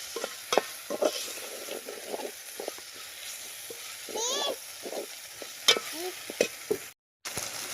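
Masala and coriander stir-fried in a pan sizzle and crackle close by, punctuated by repeated spatula scrapes and clinks. A brief silent drop comes near the end.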